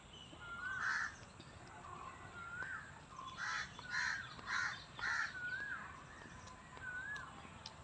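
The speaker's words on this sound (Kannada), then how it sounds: "ನೋಡಿ ಪಕ್ಷಿಗಳು" Crows caw repeatedly in a green, open natural setting, with several loud, moderately close calls in irregular bursts and fainter bird chirps between them, and no one speaking.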